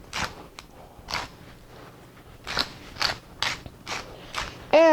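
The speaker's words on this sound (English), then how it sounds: "Put some freshly ground pepper." Freshly ground pepper cranked from a pepper grinder, a series of short dry crunching grinds in irregular bursts, close and crisp with pauses between turns, no talk.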